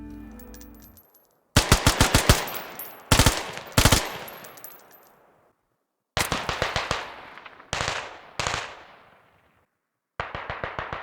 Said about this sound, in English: the M16A4 has been added to squad